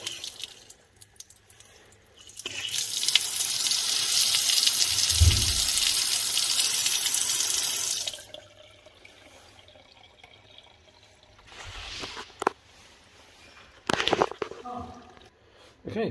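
Water gushes loudly from a newly fitted sink tap for a few seconds, then stops, followed by quieter handling noises and a short second splash; brief talk in between.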